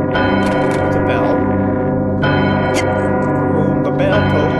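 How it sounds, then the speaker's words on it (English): A large bell in the video game Psychonauts tolls with a deep, sustained ringing tone that carries loudly throughout, with no speech over it. "Boom, the bell tolls."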